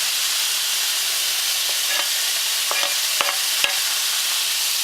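Garlic frying in a pan gives a steady, close sizzle with a few sharp clicks and pops from stirring, and no one speaks over it.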